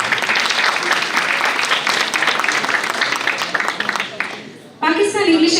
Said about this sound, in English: They deserve a big hand of applause.